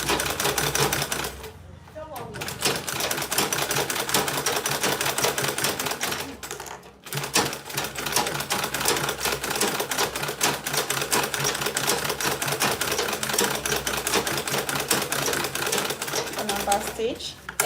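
A sewing machine stitching a handmade bag, back-stitching along the seam with a fast continuous mechanical clatter, close and loud, broken by two brief pauses.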